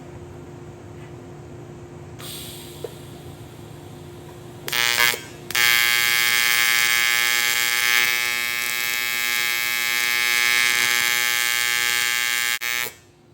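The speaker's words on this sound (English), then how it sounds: "with the torch and let the torch get my piece of material hot, and then I'll start filling and build this up." A welding torch heats and then fills a broken Harley chopper kick start arm, with a low electrical hum that gives way to a sustained buzzing arc for several seconds before cutting off abruptly; no one talks.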